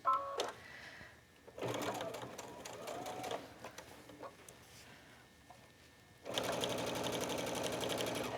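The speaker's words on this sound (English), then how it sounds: "I'm ready to start sewing on the next part of my corner" A sewing machine stitches binding onto a fabric tablet pouch in several bursts of rapid, chattering needle strokes separated by brief pauses, ending with a strong continuous run.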